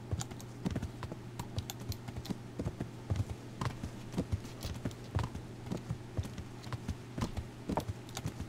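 Horse hooves clip-clop at a steady, brisk rhythm while riding in the medieval game Kingdom Come: Deliverance, close and distinct over a constant low hum.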